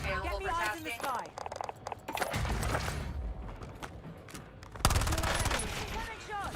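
Rapid gunfire from a Warzone battle royale match, bursts of automatic shots and single cracks crowding one another throughout, loud and close with a heavier blast near the end, while people talk over the action.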